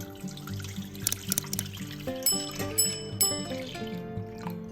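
Fresh whole or skim milk, about 1.5 litres, poured into a pot, making an uneven trickling and splashing stream with a few sharp clinks, fairly close and with no talk.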